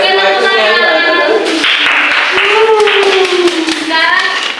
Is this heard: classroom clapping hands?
yes